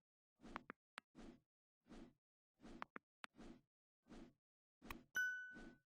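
A series of short chimes and dings in a rhythmic pattern, ending with a bright ringing bell tone that sustains and fades.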